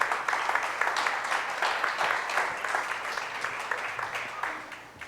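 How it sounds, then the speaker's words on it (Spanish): A congregation applauds through a church sermon, producing sustained, crowded clapping from many people that stays strong for around five seconds before tapering off. "Dale un aplauso al Señor"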